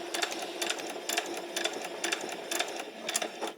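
A sewing machine basts stitches on fabric for a pleated top, a quiet, close, rapid mechanical chatter in short regular bursts, with no voices over it.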